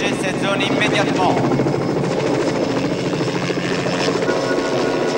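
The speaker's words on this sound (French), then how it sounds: "C'est un hélicoptère" A helicopter flies close overhead with a loud, steady rotor roar that fills the whole stretch, while voices talk over it.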